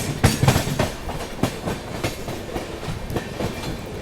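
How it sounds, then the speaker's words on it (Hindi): A Double Decker Express train rolls past on the rails nearby, its wheels beating a rhythmic clickety-clack over rail joints with a steady, loud rumble. "इतनी देर में डबल डेकर एक्सप्रेस आ गई"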